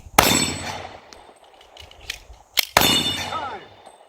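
Gunshots ringing off a steel dueling tree target on a shooting range: sharp loud cracks, each followed by a metallic clang, in two bursts with scattered single impacts between, and faint talk in the background.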